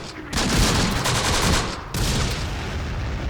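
Anti-tank gun fire and combat on a Close Combat battlefield: dense, continuous booming and crackling gunfire with heavy low rumble, loud and close, briefly dropping before resuming.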